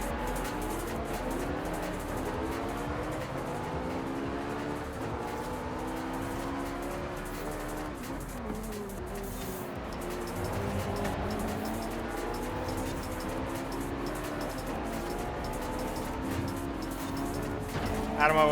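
A Ferrari 458 Italia engine drives hard in Forza Horizon 5, its whine climbing and dropping through repeated gear changes across a long continuous stretch, with occasional tire squeal and a steady rumble beneath.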